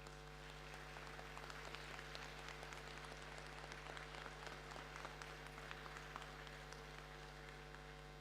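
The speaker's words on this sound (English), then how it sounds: "they all deserve a big round of applause from all of us for this amazing event" Applause from the audience at a British Alpaca Society show ring sounds faint and distant, a steady scattering of claps over a constant low electrical hum.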